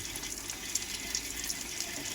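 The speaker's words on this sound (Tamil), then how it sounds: "நிற்கலை, தண்ணி வேஸ்டேஜாக போயிட்டுருக்கு" Water keeps running through a household water meter after the tap is closed, a steady close rushing hiss broken by small irregular ticks and clicks.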